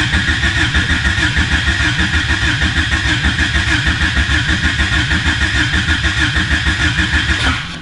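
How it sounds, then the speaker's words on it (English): A Honda Civic Si with a swapped D16A1 DOHC engine cranks over without firing, its starter producing a fast, even, rhythmic churning that is loud and close and runs nonstop until it cuts off at the end. "I want to crank the engine over and build some oil pressure"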